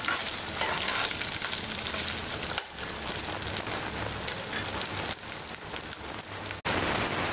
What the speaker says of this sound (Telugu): వీటిని కూడా ఒక నిమిషం పాటు ఫ్రై చేసుకుంటే సరిపడుతుంది.